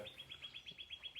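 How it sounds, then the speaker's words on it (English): Small birds chirping outdoors in quick, evenly spaced high tweets, about ten in a row, fairly faint against a quiet background. "There's a lot of birds chirping outside."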